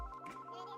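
A Panasonic KX-TG J320 cordless landline handset rings for an incoming test call, a steady electronic ringtone with sustained tonal notes, heard close and alone without any talking.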